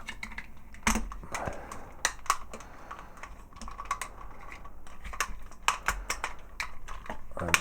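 Plastic panels of a Transformers Armada Megatron figure being folded and split apart, a close series of quick small clicks and snaps in an irregular rhythm.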